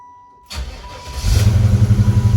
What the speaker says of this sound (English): We'll turn it off and see how it restarts on a hot start.